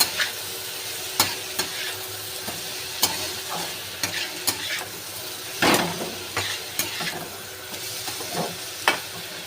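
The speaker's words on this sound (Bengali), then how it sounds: "এবার আমি আদা রসুনের পেস্টটা দিয়ে দেবো, একটু হালকা নেড়ে নেব।" Ginger-garlic paste frying in a pan gives off a steady low sizzle, broken by distinct spoon knocks and scrapes against the pan every second or so, near and clear.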